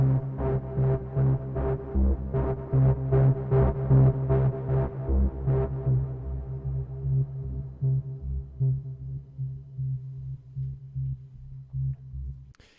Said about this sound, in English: that was with white noise and with distortion